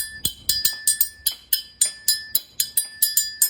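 Hand-held Cajun triangle struck in a quick, steady rhythm, each bright metallic hit ringing out between strikes as the hand opens, close and loud with a sustained high ring underneath.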